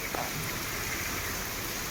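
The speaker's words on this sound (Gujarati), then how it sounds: "અત્યારે અમારા ગામમાં ધોધમાર વરસાદ" Heavy downpour in a village makes a steady, unbroken wash of hiss and patter that stays even and constant throughout, with no voices heard.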